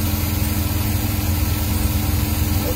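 Suzuki K6A engine idling with rpm rising and falling unsteadily, a continuous close mechanical drone with a rough, slightly surging low rumble throughout.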